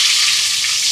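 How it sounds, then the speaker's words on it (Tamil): Mustard seeds hitting hot oil, a loud, dense, hissing sizzle that holds steady for a brief moment. "எண்ணெய் சூடாயிட்டு கடுகு சேர்க்குறேன்"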